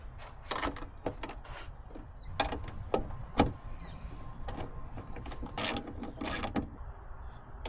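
A ratchet cranks down a fastener while building a custom cupholder and storage bin, giving irregular clicking bursts close by, some sharp and some faint, with quiet gaps between them.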